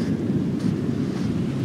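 Ocean waves wash gently onto a shore in a calm spell, a steady broad rush of surf mixed with wind buffeting the microphone, continuous and fairly loud with no voices.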